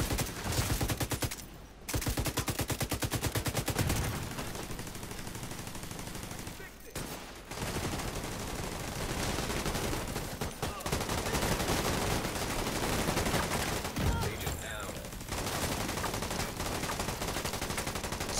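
A light machine gun in The Division 2 fires long sustained automatic bursts, loud and continuous, with brief pauses between volleys and other gunfire mixed in.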